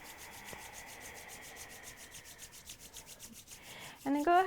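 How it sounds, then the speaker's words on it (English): Palms rubbing briskly together during a bedtime Kundalini yoga practice, a soft steady friction hiss that stays faint and close for most of the stretch before a louder tonal sound breaks in at the end. "slow down the rubbing of the palms"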